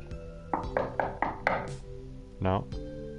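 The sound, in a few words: knocking on a drawer in the video game PantsuHunter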